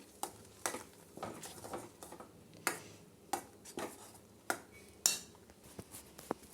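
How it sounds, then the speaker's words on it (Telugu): A spoon stirs a coconut milk mixture in a metal pan, making irregular clinks and scrapes against the pan at a quick, uneven rhythm, close and fairly quiet with no voices. "గడ్డలు గడ్డలు అవ్వకుండా బాగా కలుపుకోవాలి."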